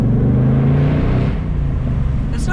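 A 2024 Ford Mustang Dark Horse rumbles loud and steady through a tunnel, its engine and exhaust droning with reverberation amid surrounding traffic, easing slightly partway through.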